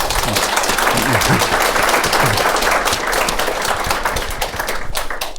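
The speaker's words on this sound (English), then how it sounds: "Perhaps a quick round of applause." A quick round of applause from an audience at a talk on AI and cancer, dense crisp clapping throughout with a few voices over it early on.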